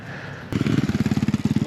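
A Sur-Ron Storm Bee electric dirt bike arrives abruptly and passes close by with a loud, pulsing motor and drivetrain whir that stays strong to the end.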